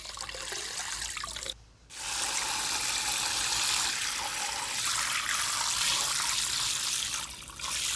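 During a spa treatment, water is poured and trickles right at the ear, a steady close splashing rush that breaks briefly once before continuing and then fades slightly toward the end.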